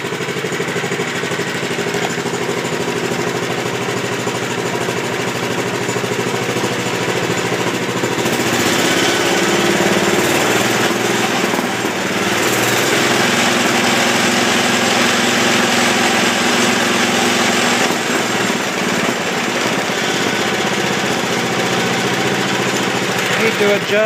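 A Wheel Horse C-160 lawn tractor engine runs without its belt, idling close and loud with a steady, slightly uneven chugging drone that surges a little midway, while a person talks over it.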